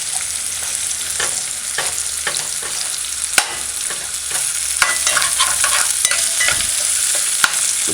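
Saltfish stew cooking with sautéed onion and garlic in a pan, a steady close sizzle with irregular sharp clicks of a utensil scraping and stirring, with no talking.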